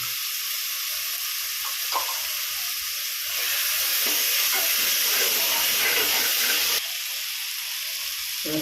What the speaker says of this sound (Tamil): இஞ்சி பூண்டு பேஸ்ட்டு போடுறோம் போட்டு வாட்டிக்கலாம்